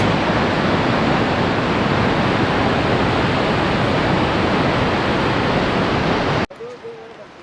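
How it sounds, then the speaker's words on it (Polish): Waterfall near Oslo, Norway roaring as a loud, steady broadband rush of falling water for over six seconds, then cutting off abruptly to a quieter scene with faint sounds. "Tam jest wodospad. Nawet dwa."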